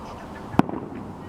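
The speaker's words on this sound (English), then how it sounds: "the bridge, and some fireworks." A single firework pops over Astoria on the Fourth of July, one sharp, fairly distant bang over a low murmur of outdoor background noise.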